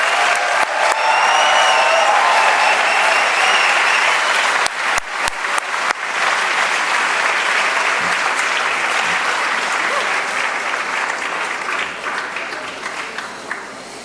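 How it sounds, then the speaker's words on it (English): A large audience at an MBA graduation ceremony gives sustained applause for the graduates, a dense, even roar of clapping that carries on for many seconds and slowly eases toward the end, with a few isolated sharper claps. "Congratulations and a round of applause for all our full-time graduates."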